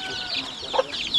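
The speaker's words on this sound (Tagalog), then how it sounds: "Sisyo ng manok." Farmyard chickens cluck close by while chicks peep in high, thin chirps, a short burst of soft clucks with a brief louder call near the middle.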